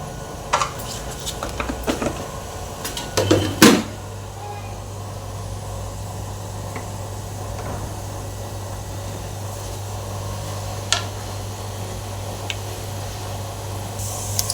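Cumin and mustard seeds splutter in hot oil in a home kitchen, scattered sharp pops and crackles mostly in the first few seconds, then sparse snaps over a steady low hum.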